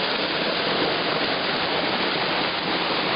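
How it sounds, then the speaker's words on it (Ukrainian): Steady, dense rush of falling water at the top of the roughly 5-metre Rushir waterfall, close and constant, with no other sounds over it. "Ми знаходимося на верхній частині водоспаду."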